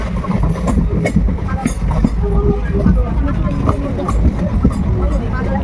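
A moving passenger train rumbles on its rails, with low, steady rolling noise and faint rhythmic knocks, while people chatter in the background.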